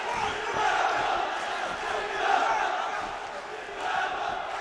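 A large indoor crowd chants in rhythmic, swelling waves at a kickboxing match in Güngören Sports Complex, Istanbul, with loud dense voices surging roughly every second or two and never breaking into silence.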